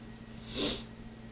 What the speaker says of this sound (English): Excuse my sniffle.